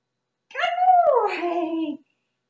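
A single drawn-out canine whine-bark, close and fairly loud, sliding downward in pitch over about a second and a half.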